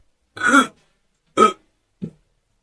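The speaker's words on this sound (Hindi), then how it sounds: "उल्टे सिर ने डकार मारते हुए कहा" Three separate burps come in a row: a long, throaty one, then a shorter one, then a small, faint one, each set off by silence.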